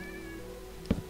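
A Minecraft cat gives a single short meow near the end, loud and close over a steady tonal background hum, with no speech.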